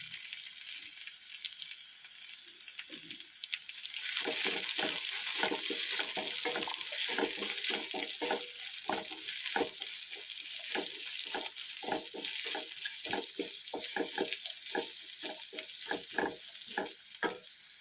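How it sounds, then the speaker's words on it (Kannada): Sliced onions fry in a hot pan for Mangalore-style clam sukka, a quiet start giving way to a steady loud sizzle from about four seconds, with scraping stirs and clicks on top and no talk. "ಇದು ನೀರುಳ್ಳಿ ಹಾಕ್ತಾ ಇದ್ದೇನೆ ಫ್ರೈ ಆಗಬೇಕಿದು"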